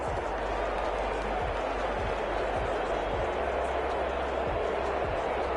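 A steady, loud stadium crowd roar from a football video game, with the home crowd in a Dolphins versus Las Vegas game droning continuously and faint low thumps underneath.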